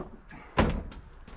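A plumber's work van rear door bangs shut once with a firm thud, followed by a few lighter rattles and clicks from the door and racking inside.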